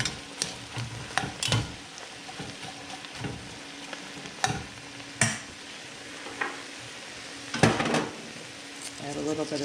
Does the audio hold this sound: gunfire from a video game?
no